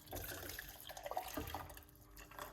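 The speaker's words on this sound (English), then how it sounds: "I'm using hot water from my kettle." Hot water from a kettle pours into a medium cup for moringa leaf tea, a close, bubbling trickle that runs steadily and then tapers off.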